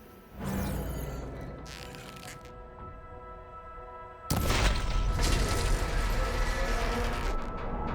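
Shots striking a machine's arm coupling in Horizon Forbidden West: a loud burst at the start, sustained rumbling mechanical clatter, then a heavier crash-like surge about halfway through that carries on to the end.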